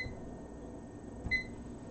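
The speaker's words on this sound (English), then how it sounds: "All right, set my timer." A kitchen timer gives two faint, short electronic beeps about a second apart as it is set for the cupcakes, in a quiet kitchen with no talking.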